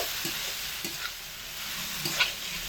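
Vegetables for Bengali shukto sizzle in a pan over low to medium heat while a spatula stirs them, soft continuous frying with a few scraping knocks of the utensil, close and fairly quiet with no talking.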